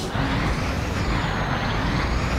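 A Scania 113H truck in a truck-driving video game gives a loud, sustained hiss of air brakes with broadband rushing noise throughout.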